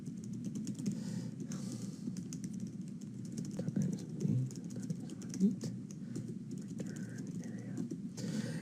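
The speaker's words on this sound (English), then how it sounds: "Now I'm just going to type the function and then we're going to talk about it." Steady typing on a computer keyboard while a function is entered for a programming lesson, soft irregular key clicks running throughout under a low background hum.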